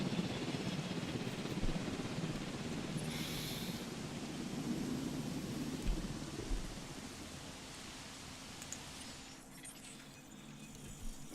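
Rain falls steadily in the Jurassic World Evolution video game, a dense, continuous hiss with low rumbling thunder building underneath, then thinning slightly toward the end, with no talking.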